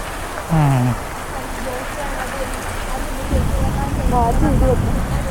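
Continuous rain falling and pattering on surfaces, steady and moderately loud, with a few brief tonal voices and whistles rising above it.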